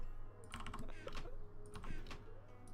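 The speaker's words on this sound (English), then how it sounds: "a K70 Lux. Red switch. Oh, that poor keyboard suffered." Rapid clacking keystrokes on a Corsair K70 Lux mechanical keyboard with red switches, in several quick bursts, close and fairly loud over a low background hum.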